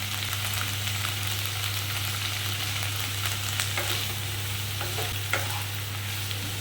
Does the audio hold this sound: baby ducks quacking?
no